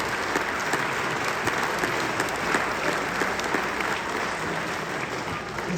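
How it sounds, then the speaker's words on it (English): Audience at a high school basketball reunion event giving a steady, even round of applause, a dense wash of clapping that stays constant throughout with no voices rising above it. "please give yourself a round of applause"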